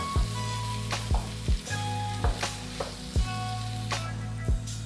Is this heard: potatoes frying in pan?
yes